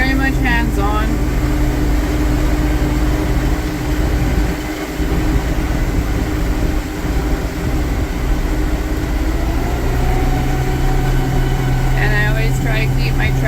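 A farm tractor pulling a hay rake drones steadily up close in the cab, a constant engine hum with rattling and a voice talking over it.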